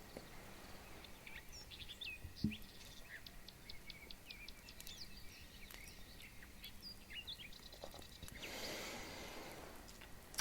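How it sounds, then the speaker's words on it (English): Faint birds chirping and tweeting in short high calls over a constant outdoor hiss, fairly distant, with no talking. "You can almost practically hear the birds chirping"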